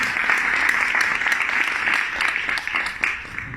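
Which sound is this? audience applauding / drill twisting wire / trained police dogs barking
audience applauding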